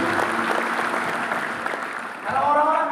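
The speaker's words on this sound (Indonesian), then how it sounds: "Tepuk tangan dulu yang paling baik." A church congregation applauds during a sermon, with steady clapping filling the room before a voice breaks in near the end.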